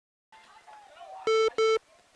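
Two steady electronic beeps in quick succession, loud and clear, following a stretch of faint background voices at a boys' baseball game.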